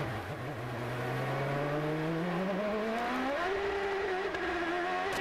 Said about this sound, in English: You hear how slow that hairpin is. It's way down in the RPM range.